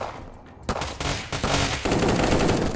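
Rapid gunfire in an Unturned PvP match, loud bursts of automatic shots that start after a brief lull and build into a dense, continuous volley up close.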